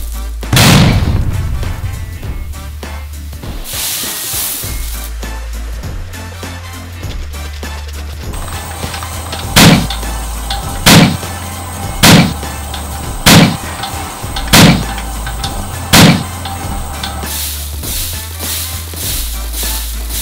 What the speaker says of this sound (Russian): Ну что, продолжаем взрывать перловку.